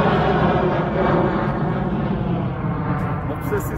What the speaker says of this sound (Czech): Obsesi s letadlama, prostě taková mohutná věc se řídí vzduchem.